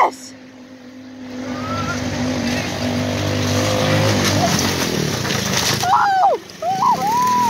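A 150cc buggy engine revs up and builds to a loud, close roar over several seconds, then cuts out briefly near the end, with excited voices shouting over it.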